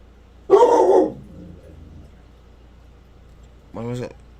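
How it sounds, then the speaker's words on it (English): A dog barks once loudly indoors, then a short whimpering yelp follows a few seconds later, with someone talking nearby. "Sorry about the dog."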